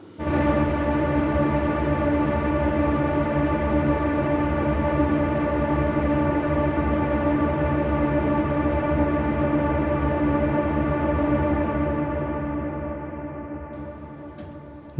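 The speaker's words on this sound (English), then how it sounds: "this freezes the sound of the reverb at the moment it's enabled, thus allowing the reverb to go on forever." A reverb freeze effect holds a dense, sustained wash with a rich chord-like tone without decaying, droning steadily before slowly fading near the end.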